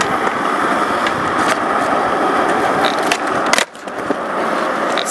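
Skateboard wheels roll and grind with scraping texture during a fakie trick attempt, loud and close, with a sharp clack and brief dip near the end before rolling resumes.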